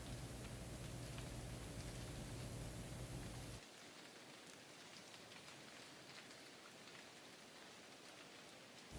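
Rain falls steadily through a forest at night, a soft continuous hiss of drops on leaves, heavier for a few seconds and then settling into a lighter, even patter with occasional closer drips.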